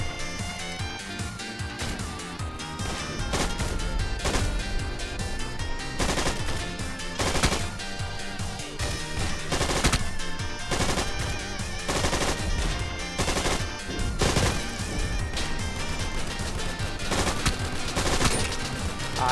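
A Tiger tank's mounted machine gun firing in War Thunder, long sustained bursts of rapid shots with brief pauses, loud and close throughout, with no voices.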